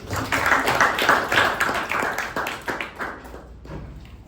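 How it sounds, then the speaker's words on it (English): A Toastmasters meeting audience claps for a speaker and evaluator: dense, fairly loud applause with sharp taps that runs for a few seconds, then thins and fades out near the end. "A big round of applause for the speaker and the evaluator."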